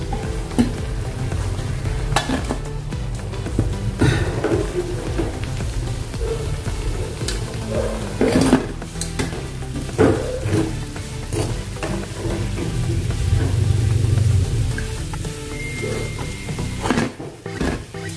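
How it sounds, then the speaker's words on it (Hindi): Mixed dal and rice vadas deep-frying in hot oil, a steady close sizzle and bubbling throughout with occasional stirring clinks and scrapes of a spoon in the pan. "अभी ऐसे हम सभी वड़े को तल लेंगे"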